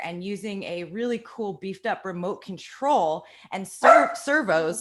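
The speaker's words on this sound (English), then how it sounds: "Sorry about my dog." A dog barks and yips intermittently while someone talks steadily in the foreground, the barking mixed in with the speech and rising to a louder burst near the end.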